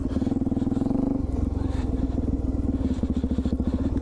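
A Suzuki DR-Z400E dual sport motorcycle runs close by, its single-cylinder engine thumping in a fast, steady pulse while being ridden.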